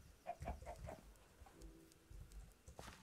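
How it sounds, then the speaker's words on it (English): Chickens in the video game Minecraft give a run of four short clucks followed by sparse scattered clucks, fairly faint against low background game sounds, with no talking. "Come on, chickens."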